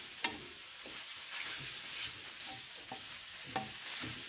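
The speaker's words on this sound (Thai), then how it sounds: "ผัดต่อเลยครับใช้ไฟกลางไปเรื่อย" Southern Thai-style thick yellow noodles are tossed over medium heat as a soft, steady sizzle runs under sharp, periodic scrapes and clacks of the spatula against the pan. No voices are heard.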